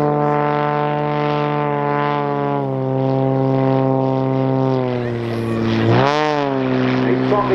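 Xtreme Air XA41 aerobatic plane with a big three-bladed propeller at the Dunsfold Wings & Wheels air show, a loud close droning engine whose pitch holds steady, then dips and swoops back up as it maneuvers.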